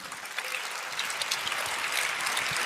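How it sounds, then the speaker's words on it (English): An audience claps steadily in sustained, dense applause, fairly close and even throughout without voices standing out. "everyone give him a round of applause,"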